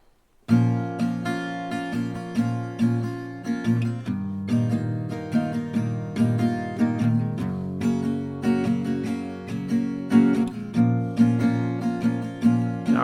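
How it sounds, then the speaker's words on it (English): Chords of a song strummed in a steady, continuous rhythm, bright and full, the pattern shifting from verse to chorus; no one speaks. "So I'm gonna take you through 1 round of verse play and then 1 round of chorus,"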